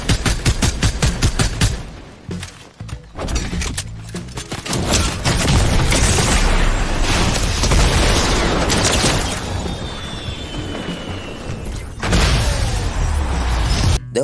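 Rocket Ram weapon fire and explosions in Fortnite, heard as a loud, dense run of booming blasts and rapid gunfire bursts that fills the whole stretch, with a brief lull early on before heavy impacts continue to the end.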